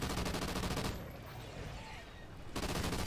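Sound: rapid gunfire from a gun in the video game Call of Duty Ghosts

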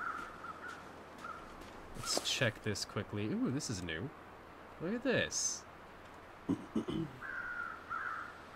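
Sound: crows cawing in the video game The Long Dark

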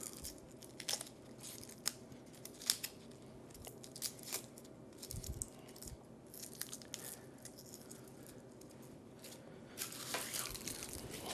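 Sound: cutting and peeling the skin off a shallot

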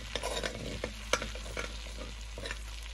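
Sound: seeds warming in country churn butter in a pot

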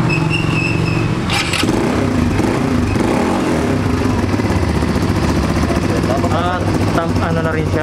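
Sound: ATV engine starting and idling

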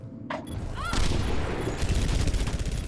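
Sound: gunfire in the video game Overwatch

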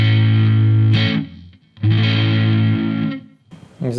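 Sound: Marshall Code 50 amp plexi crunch guitar tone

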